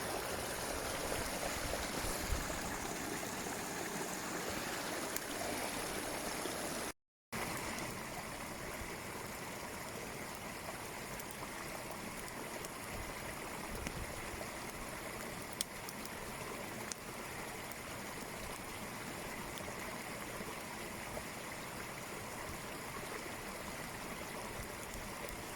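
Stream water flowing close to its source outdoors, a steady, dense rushing wash that continues at an even, fairly quiet level for the whole stretch, with one very brief dropout.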